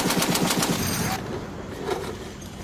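Heavy machine gun firing live rounds on a military range, a rapid string of loud bursts for about a second, then quieter scattered shots and range noise.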